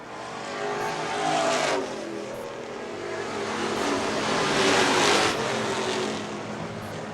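Race cars on a short-track Super Street feature lap past, with the number 48 car leading late in the event; a continuous loud engine roar rises and falls twice as cars sweep by, with no talk.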